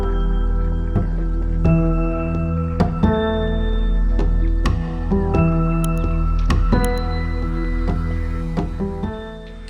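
A clan of hyenas splashes and washes in a large pool of water on the savanna, with repeated wet squishing and sloshing sounds at close range over a steady low hum, no talking.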